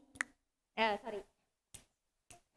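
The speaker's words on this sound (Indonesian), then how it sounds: "petik jari" A few isolated finger snaps, crisp and close, spaced out during an Indonesian clapping and snapping song game, with a short stretch of talking between them.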